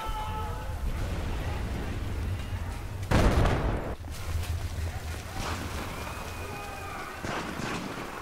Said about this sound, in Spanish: Se escucharon disparos.